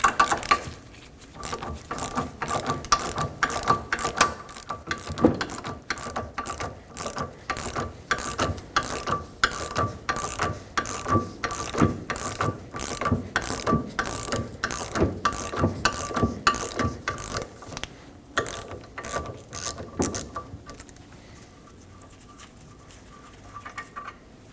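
A hand ratchet backs out an engine mount stud from a 2.5L four-cylinder Ford Transit Connect, the stud held in a bench vise. It gives a long run of close, rapid clicking in uneven bursts, then slows and stops near the end.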